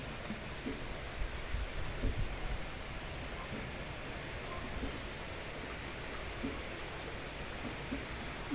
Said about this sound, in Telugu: మళ్ళీ వర్షం పడుతూనే ఉంది